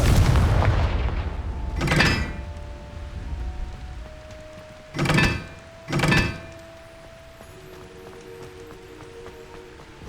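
Confringo fire spell blasts in Hogwarts Legacy on PS5: three loud booming bursts, one at the start and a close pair later, each a sharp thump with a short fiery roar, over a low game ambience with faint tonal hum.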